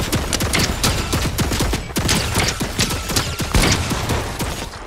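Rapid turret gunfire in the video game Fortnite, dense bursts of sharp shots fired in quick succession, loud and close with a steady rattling rhythm and no talking.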